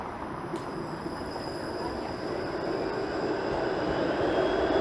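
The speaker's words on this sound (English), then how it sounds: "I seem to be keeping pace with this streetcar" A Toronto streetcar rolls past on a gloomy Sunday street, a steady low rumble of wheels on rail with a faint high squeal, staying fairly constant and slowly growing a little louder.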